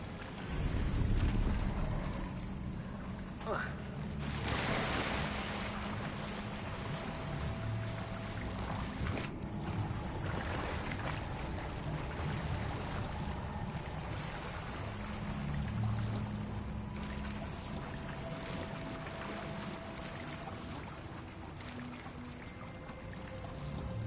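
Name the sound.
bubbling water in the Hogwarts Legacy video game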